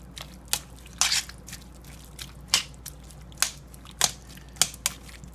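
Shrimp are stirred into a pot of shrimp creole, with a series of soft, wet squelching and scraping strokes spaced roughly half a second apart, close by with no talking.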